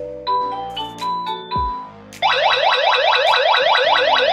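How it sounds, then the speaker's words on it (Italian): A few electronic chime tones, then a home burglar alarm, triggered by a motion sensor, starts a loud, rapid warbling siren abruptly and keeps cycling on and off, close and piercing. "sentite che suona perché appunto ha già rilevato il movimento in quanto noi siamo davanti all'allarme"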